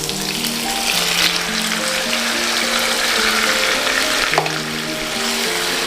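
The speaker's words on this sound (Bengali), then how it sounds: "এখন দিয়ে দেবো চিকেনগুলো দিয়ে দিচ্ছি" Chicken pieces frying in oil with chopped tomato in a pan for a spring onion chicken dish, a steady moderate sizzle with a brief stir clatter near the end, no voices.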